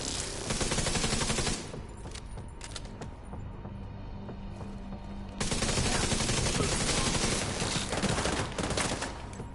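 Sustained automatic turret gunfire in The Division 2, a dense continuous rattle of rapid shots that runs loud, eases to a quieter patch mid-way, then surges back to full intensity.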